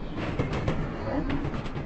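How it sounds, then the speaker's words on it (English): A train rumbling along the rails with a steady, rolling roar and faint rhythmic clacks, close and continuous. "Do you know what kind of train this is?"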